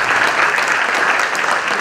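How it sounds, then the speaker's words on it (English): Dense, steady applause from a conference audience at an HR event session, loud and continuous throughout with no talk over it. "let's give a big round of applause for all of you"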